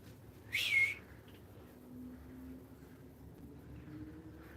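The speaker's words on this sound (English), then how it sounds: "I definitely heard a whistle." A single short whistle rings out early, fairly distinct over a quiet outdoor background with a low hum.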